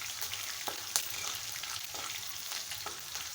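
Green chilies fry in hot oil, a continuous moderate sizzle broken by a few scraping stirs and light clinks, with no talking.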